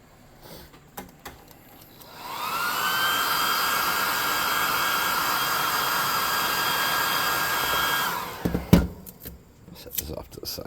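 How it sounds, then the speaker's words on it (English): A hair dryer drying a painted miniature demon for a tabletop game: it whirs up to a steady, loud, high-pitched blowing roar for about six seconds, then cuts off, with handling noises around it. "Let's dry him off."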